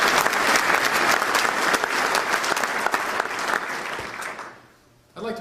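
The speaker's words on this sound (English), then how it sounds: "One more round of applause for them." A banquet audience gives a loud, dense round of applause for award winners at a 2011 chamber banquet. The clapping is sustained, then fades out near the end before a brief burst of sound.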